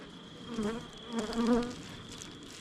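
Honey bees buzzing around a temperamental hive during fall beekeeping, a soft steady drone that rises and swells twice, fairly quiet and close, with no talking.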